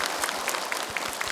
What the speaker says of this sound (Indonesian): tepuk tangannya lemes banget.